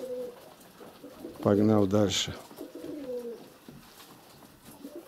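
Pigeons cooing in a courtship display at close range, a short burst of throaty rolling coos standing out over faint outdoor background while someone speaks briefly before and after.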